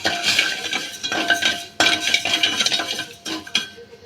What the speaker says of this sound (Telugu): ఒకసారి కలుపుతున్నాము